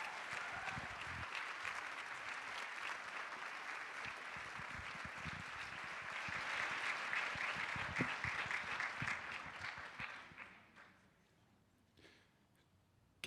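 Warm audience applause at a women's foundation annual luncheon after a live song, dense clapping that swells, then fades out over several seconds into near silence.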